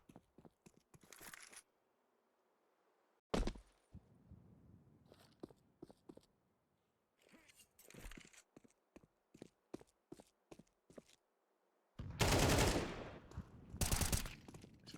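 Pistol gunfire in a competitive Counter-Strike esports match: scattered sharp single shots and short clusters of rapid fire with quiet gaps between them, ending in dense, loud volleys.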